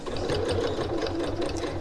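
A sewing machine stitches a seam on a reversible fabric tote bag, running steadily and close for the whole stretch with a fast, even mechanical whir and no pauses.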